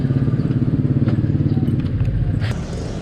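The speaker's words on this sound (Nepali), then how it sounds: "राइड हुनेछ यो बाइकमा" A motorbike ridden on the road near Pokhara toward Pumdikot, its engine throbbing in a steady loud pulse, close to the listener, easing slightly near the end with wind rumble and brief clatter.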